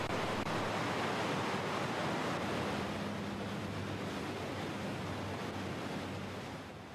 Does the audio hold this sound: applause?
no